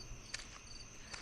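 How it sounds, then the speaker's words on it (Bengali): At night beside a marshy village lake, crickets keep up a continuous, thin high trill, broken by a couple of brief rustling sounds. "ঝিঝি পোকার ডাক"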